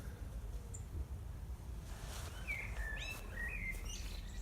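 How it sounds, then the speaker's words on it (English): Birds chirping and calling outdoors beside a garden wendy house shed, several short bright tweets in the second half over a steady low background rumble, fairly distant. "The birds are singing"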